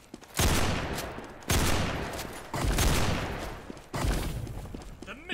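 Gunfire in the video game Typical Colors 2 comes as four loud bursts of rapid automatic fire, each lasting about a second, separated by brief pauses.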